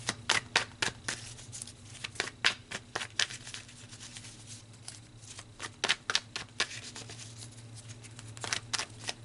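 Tarot cards shuffled by hand in close, crisp bursts of riffling and slapping, stopping and starting in an irregular rhythm over a faint low hum.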